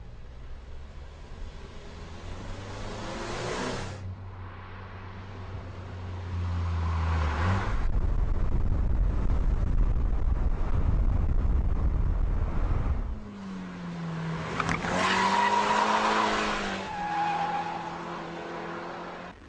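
A KTM X-Bow race car on a fast track lap, the engine rising and falling through gear shifts with a long roaring full-throttle stretch, then tires squealing through corners, loud and close from onboard.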